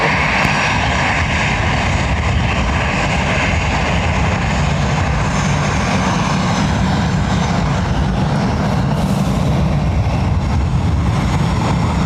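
An airliner landing at Dublin Airport in high wind gives a loud, steady roar of aircraft engines that holds without a break, with no speech over it.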